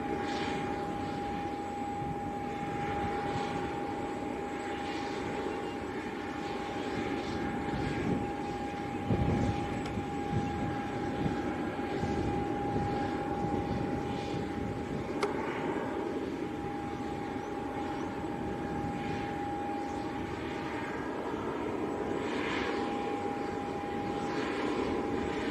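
Airliners arriving at Leeds Bradford Airport, a Jet2 and a Ryanair, give a steady distant engine roar with a faint sustained whine, carried over a long, even background.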